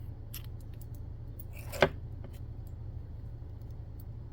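Yellow yarn snipped off with scissors during a left-handed crochet teddy bear project: one crisp close cut stands out after a few faint clicks, over a low steady hum.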